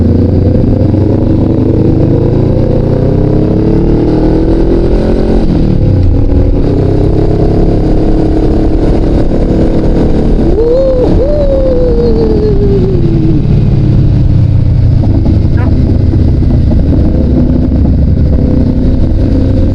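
Motorcycle ride with a steady, loud engine drone throughout, a brief rev or gear change near the middle, and continuous road and wind noise, no talking.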